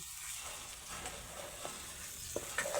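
Steady sizzling of potato sheera with chopped cashews and almonds sautéing in a pan, with a few faint spoon scrapes and clinks near the end.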